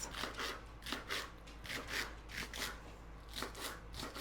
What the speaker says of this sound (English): I'm going to go ahead and cut up a whole couple stalks.